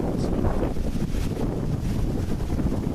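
Strong wind buffets the microphone outdoors in a wooded spot with logs, a dense, continuous roar that never lets up, with no voices heard.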